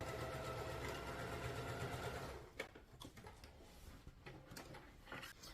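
A sewing machine stitching a fabric storage cube bag runs in a fast, steady mechanical whir for about two seconds, then stops, followed by quieter handling clicks and rustles.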